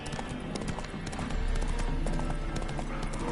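Rhythmic clip-clop of horse hooves trotting at a steady pace in The Witcher 3, close and fairly loud, with a low background hum.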